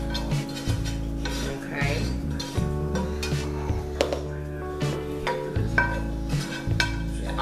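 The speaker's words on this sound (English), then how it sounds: "So I'm gonna dump my dressing mix in here" Cornbread dressing mix dumped into a pan and scraped out with a utensil, with rubbing, scraping and light metallic clinks under background music, plus a brief spoken word.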